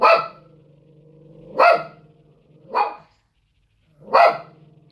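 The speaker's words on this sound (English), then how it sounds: "there's a DOG walking by, and I hope he doesn't come back this way" A dog indoors barks in four sharp, separate outbursts spaced about a second apart, close and fairly loud, with faint background hum between barks.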